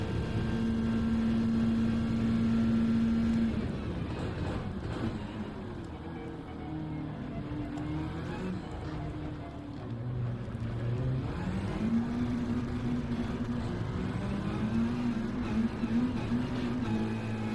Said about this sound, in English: You can hear it just sits there, revving its guts out.